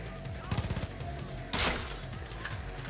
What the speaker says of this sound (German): Ja, wir müssen hier schießen.